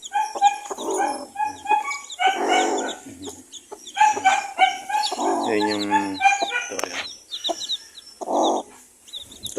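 Chickens of a Kabir and Rhode Island cross breed cluck and squawk nearby in repeated bursts, with a person speaking briefly among them.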